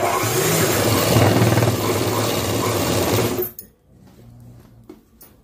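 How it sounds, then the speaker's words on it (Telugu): A sewing machine whirs loud and steady as it stitches cloth along the pocket side of a garment, then cuts off abruptly and leaves a few soft handling sounds. "జోబుల సైడ్ ఇది కుట్టు అనేది వేసుకుంటున్నది మనము"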